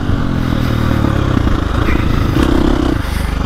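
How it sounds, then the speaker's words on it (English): A 2025 KTM 350XCF dirt bike engine runs loud and close, lugging at low revs with a steady throbbing drone that rises briefly, mixed with some clatter. "this new engine will lug like this. It's got instant pickup, and then it'll just rev out"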